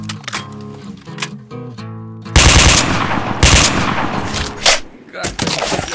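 Weapon fire in S.T.A.L.K.E.R. with a gun pack mod: after a stretch of tonal music, loud bursts of automatic gunfire erupt close by, with sharp shots and a short break before firing resumes.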